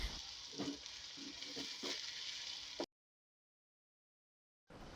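Tomatoes and whole spices fry in a pan for chicken kabsa, giving a steady hiss of sizzling broken by a few soft stirring knocks. The sound cuts out abruptly partway through and returns near the end.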